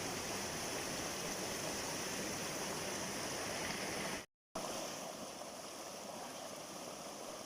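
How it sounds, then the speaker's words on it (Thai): A stream at Khlong Kai Bae on Koh Chang flows in a steady, broad rush of water that fills the whole clip, loud and continuous apart from one brief dropout of silence midway. "ลำธารเส้นนี้เขาเรียกว่าคลองไก่แบก"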